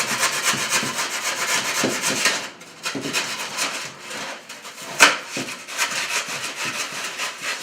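A circular rasp grinds away at a snow base, widening the hole and shaping it in close, loud scraping strokes with a short pause and one sharp knock partway through, and no talk.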